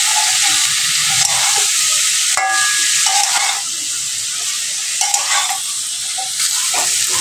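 Potatoes and figs fried together in a pan for a fig and prawn dish, giving a continuous hissing sizzle with intermittent scraping stir strokes, close and moderately loud.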